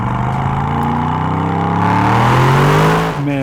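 An Aston Martin DBX707 SUV pulls hard at high speed on an open New Zealand road, its engine note rising steadily and growing louder in a continuous surge, then easing off briefly at the end.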